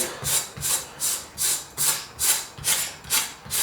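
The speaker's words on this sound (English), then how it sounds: "let me just scrape the pork belly skin" Pork belly skin scraped with a blade, a steady series of about eight rhythmic rasping strokes, close and fairly loud with no voices.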